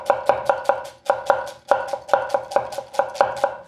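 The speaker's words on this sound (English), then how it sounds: "if there's anything that this knife is going to be good at cutting, it's going to be julienne onions like that" A 165mm nakiri knife chops yellow onions on a cutting board in quick, crisp, evenly spaced strokes. The taps come in short bursts of four or five, sharp and close, with no talking.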